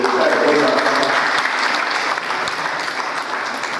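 An audience at a general assembly applauds, loud sustained clapping that carries on steadily and tapers a little toward the end, with some voices underneath.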